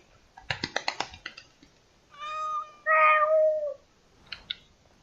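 A cat in the video game Dragon Age Awakening gives a drawn-out, rising meow after a rapid burst of clicking taps, then a few more clicks follow, close and clear.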